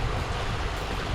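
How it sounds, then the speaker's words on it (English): A babbling brook below a small waterfall in Northumberland hill country, a steady close wash of running water that never lets up, with no voices over it. "the sound of that babbling brook is fantastic"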